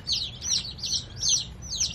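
Eighteen baby chicks fresh from delivery cheep in high, repeated bursts, a steady overlapping peeping chorus close to the microphone over a low background rumble.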